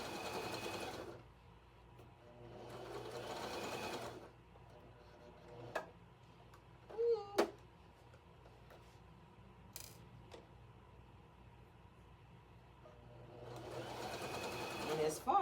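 Fabric stitched on a sewing machine in short whirring bursts at the start, middle and end, with quiet clicks and mechanical ticks between runs, close by and soft, while a person talks over it.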